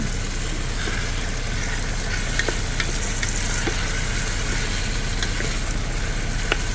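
Garlic frying in a hot pan gives a steady, close sizzle with scattered sharp crackles and pops throughout, and no one speaks.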